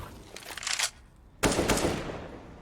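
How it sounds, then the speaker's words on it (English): Bursts of gunfire in a long-range wall-bang duel on the Overpass map in Counter-Strike: a rattling spray, a short pause, then a louder, denser volley lasting about a second. "Little long-range wall-bang duel."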